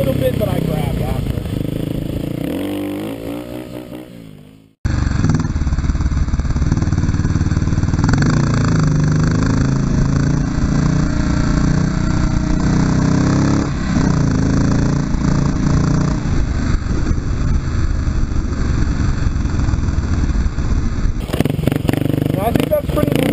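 A Kawasaki KLX250S dirt bike engine revs hard and steadily for a long stretch as the rider pulls a wheelie on gravel, loud and close, with wind buffeting over it.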